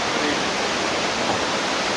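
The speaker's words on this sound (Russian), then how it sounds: "Здесь везде вокруг огромные водопады" Roaring waterfalls in the Abkhazian mountains make a steady, dense broadband rush that stays loud and constant throughout, with no pauses and no voices.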